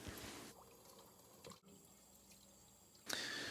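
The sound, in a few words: chicken washed under cold running water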